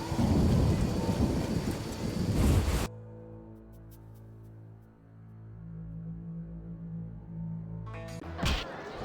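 Rain and a rumbling thunderstorm in The Witcher game fill the first few seconds loudly, then cut away to a quiet, tonal stretch before a brief burst of storm noise returns near the end.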